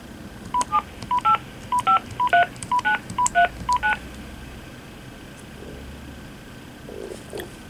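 A telephone keypad sends about a dozen short dialing beeps in quick, even succession while a phone number is entered, followed by quiet background hum.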